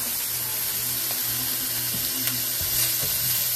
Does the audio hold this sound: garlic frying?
yes